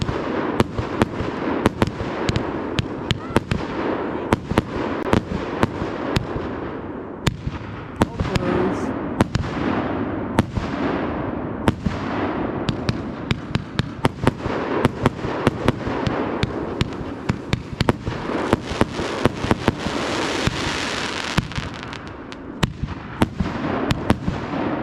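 New Year fireworks burst in a dense, continuous barrage of loud cracks and booms with crackling tails, and voices can be heard now and then between the explosions.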